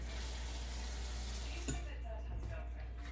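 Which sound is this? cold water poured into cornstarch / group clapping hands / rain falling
cold water poured into cornstarch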